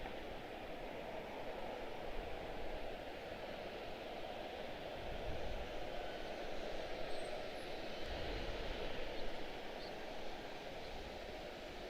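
A heavy Boeing 767 takes off at Washington Dulles airport, its jet engines giving a continuous broad roar that holds steady, then builds a little, over twelve seconds at moderate distance.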